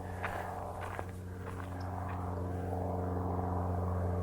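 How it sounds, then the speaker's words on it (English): Turboprop military trainer airplane passing overhead near a beach trail by Fort Pickens, Pensacola, Florida; a steady droning propeller hum that grows gradually louder, with footsteps and rustling up close. "A lot of turboprop trainers flying around."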